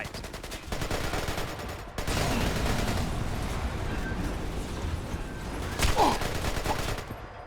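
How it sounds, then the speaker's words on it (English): Rapid gunfire rattles through a big firefight in a Splinter Cell video game, with dense bursts of shots and explosions running almost continuously at close range. "I go to rescue bro, and then we get into a big ass firefight."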